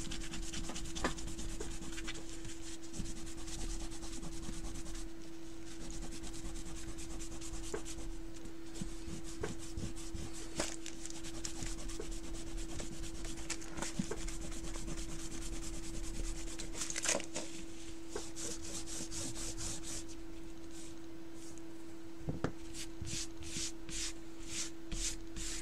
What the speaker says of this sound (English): Eraser time.